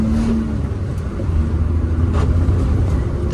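Car cruising along, heard as a loud steady engine and road rumble without pauses for its whole length.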